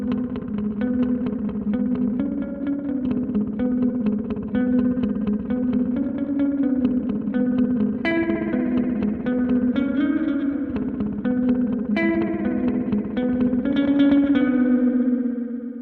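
Guitar run through an OBNE Black Fountain Stereo delay with feedback set to 3, chords and notes trailing into dense, stacking repeats that swell into a steady, loud wash of echoes with no talking.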